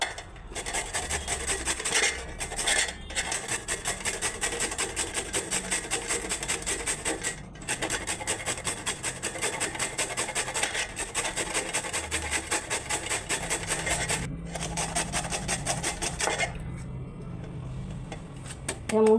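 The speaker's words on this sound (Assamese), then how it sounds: "এইখিনি মই পিহনাত পিহিম" Papaya grated against a grinding stone, a continuous close rasping scrape in fast regular strokes that carries on with only brief pauses before trailing off at the end.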